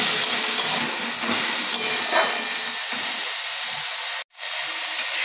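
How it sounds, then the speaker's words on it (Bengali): Water splashed into a hot pan of frying drumstick flowers sets off a loud, steady broadband sizzle and hiss that holds nearly unchanged, cutting out abruptly for a moment near the end. "আমি এখানে 2 টেবিল চামচের মতন জল দিলাম"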